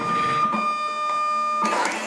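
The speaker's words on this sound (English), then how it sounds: "Let me print it so you can see." A SafetyPro label printer prints a 1-inch label on 4-inch stock, running with a steady mechanical whine and hum that shifts briefly near the end, close and fairly loud, with no talk.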